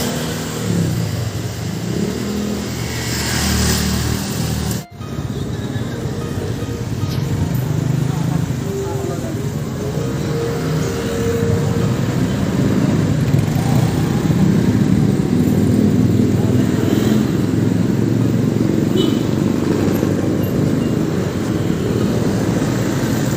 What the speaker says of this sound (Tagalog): Yan, magsi-single motor po kami.